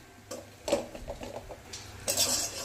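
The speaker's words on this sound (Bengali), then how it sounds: "আবার এক মিনিটের মতো কিন্তু এটাকে ভালো করে নেড়ে নিয়েছি।" Semolina malai barfi mixture is stirred in a pan with a spoon, giving soft, irregular scraping and light metallic clinks at close range, with no voices.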